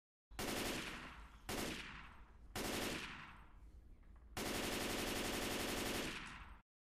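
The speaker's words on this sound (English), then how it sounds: "So this is what the Assault Rifle looks and sounds like when you fire it." Bursts of automatic fire from an M16 assault rifle in the game Left 4 Dead 2, heard as four loud sustained volleys in close succession, the last one the longest, with no talk.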